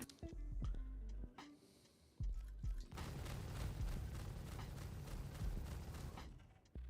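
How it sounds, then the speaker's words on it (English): A few dull thumps lead into a loud, sustained rumbling blast with crackling debris that rolls on for several seconds before fading. "We were really close to that explosion."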